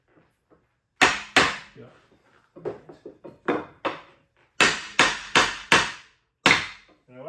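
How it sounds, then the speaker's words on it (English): Kitchen island panels being tapped together during assembly, a series of sharp, close knocks of wood on wood, irregular and clustered, with a brief spoken word among them. "So now I can just tap these together."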